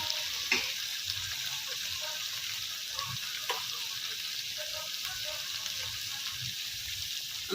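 Onion sizzles in hot oil for a tempering on a rice-husk stove while a yellow cucumber and tomato curry is being cooked. A steady, close frying hiss runs throughout, broken by a few soft stirring knocks, with no talking.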